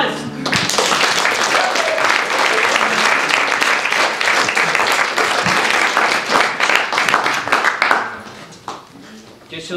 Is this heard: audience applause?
yes